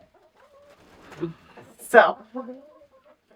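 Roosters cluck in short bursts near the middle and end, with a person speaking briefly between the calls.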